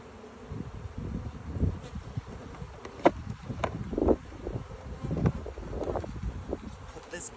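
Honey bees around an open hive during a mite check, buzzing drones passing near and far with scattered louder fly-bys, wind noise on the microphone underneath.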